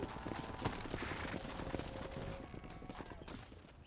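Horse hooves clip-clopping in the Red Dead Redemption video game, a steady run of close, repeated hoofbeats with faint mechanical rattles mixed in and no talking.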